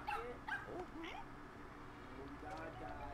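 A dog in the video game Super Mario Maker 2 gives a few quick high yips and whimpers at the start, then goes quiet over a low background hum.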